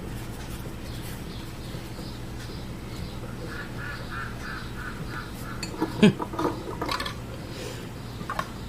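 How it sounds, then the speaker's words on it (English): Ducks quack in the distance, a series of soft nasal calls over a steady background hum, with a brief sharp knock partway through. "Can you guys hear my ducks? Sounds like they're laughing out there."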